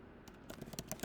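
Keys clatter on a computer keyboard in a short burst of quick, close taps, starting faintly and growing into a rapid run of distinct clicks.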